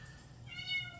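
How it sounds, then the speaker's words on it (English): Misty, a female cat in heat, lets out a drawn-out yowling cry indoors, close and moderately loud, rising in pitch toward its end. "y'all have to excuse Misty the cat."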